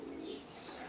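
Pigeons at a racing pigeon loft in Prahova, Romania, give a soft, low cooing close by, a short steady call with faint chirps above.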